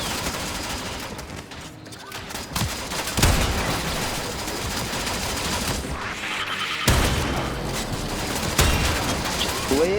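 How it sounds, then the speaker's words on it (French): Gunfire in the Warframe boss fight against the Jackal, aimed at its arm, arrives as sharp bursts of shots with loud impacts over a continuous game soundscape of noise and effects. "On va tirer sur son bras."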